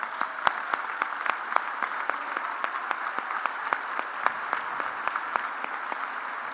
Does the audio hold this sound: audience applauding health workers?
yes